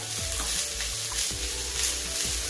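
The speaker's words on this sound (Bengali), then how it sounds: "এবার ক্যাবেজগুলো দিয়ে দেবো। ক্যাবেজগুলো নাড়তে থাকবো" Shredded cabbage sizzles and hisses in a hot pan while being stirred, with intermittent scraping strokes of a utensil repeating every half second or so, close and loud, no talking.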